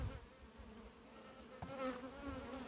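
Honeybees buzz softly and continuously close by at a hive, a faint steady drone with no voices.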